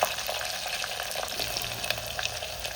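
Curry leaves and garlic fry in hot oil with a dense, steady crackling sizzle, close and fairly loud, with faint stirring scrapes and no talking.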